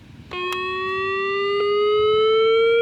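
The siren test on a Midland WR10 weather radio starts after a brief pause: a loud, piercing electronic tone that holds steady and slowly climbs in pitch, close and alone.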